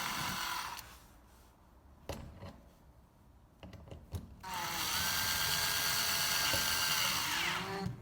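Cordless screwdriver driving screws while a lock is replaced on a fire-rated front entrance door: a short high-pitched motor whine, a few scattered clicks and taps, then a longer sustained whirring run, close by with no talking.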